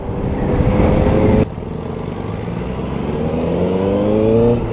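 A QJ Motor SRK 600RR sport bike with a 600cc inline-four engine revs loudly up close, a steady high rev that drops abruptly, then climbs again in a smooth rising sweep, with no talk over it.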